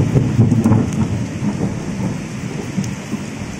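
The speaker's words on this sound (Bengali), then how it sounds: "তোমরা নিশ্চয়ই শুনতে পাচ্ছ মেঘ ডাকছে" Heavy rain pours down at a trekking spot in Meghalaya's Nongriat village while thunder rumbles low and deep, loudest at the start and rolling on beneath the steady downpour.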